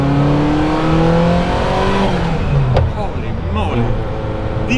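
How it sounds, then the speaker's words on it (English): Ferrari F40 turbocharged engine heard from inside the cabin, loud and continuous, rising through a rev and then shifting pitch as the car pulls away, with a voice partly buried under the engine noise. "The turbo sounds in here."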